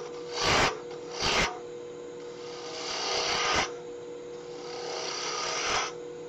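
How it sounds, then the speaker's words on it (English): Spindle roughing gouge cutting wood on a lathe while roughing out a miniature bird Christmas ornament: two short loud rasping passes, then longer sustained scraping cuts over a steady motor hum. "we're just gonna do a little bulk removal here with a spindle roughing gouge"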